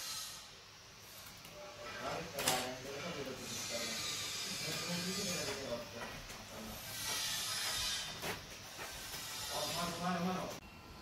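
Food grilling over heat gives off a steady, soft sizzling hiss that runs throughout, with a person talking over it at moderate volume.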